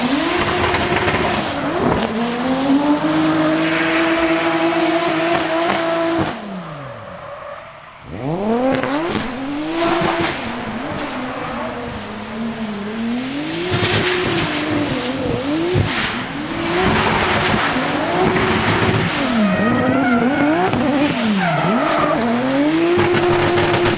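A black Toyota Supra drifts with loud, sustained tire squeal and a revving engine rising and falling, one long slide, a brief lull, then repeated squealing swings, close and dominant with no voices.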